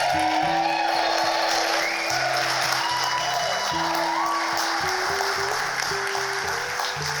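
Wedding guests applaud and cheer for the groom, filling the room with steady clapping and a few whoops. A voice speaks over the noise throughout.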